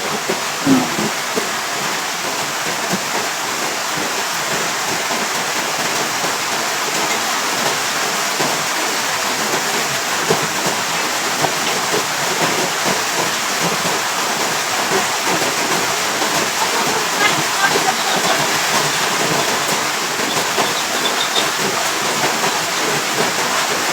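Heavy rain pours down without a break, a loud and even hiss of falling water that holds level the whole time with no voices.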